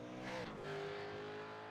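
V8 race car in a racing simulator at Laguna Seca, engine note rising and dropping through a gear change with a brief tyre squeal, steady and fairly close for under two seconds with no talk.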